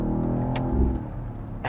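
A 2024 BMW XM Label Red in M mode downshifts and accelerates hard, its deep engine roar loud and sustained inside the cabin, with a brief surge midway and no talking.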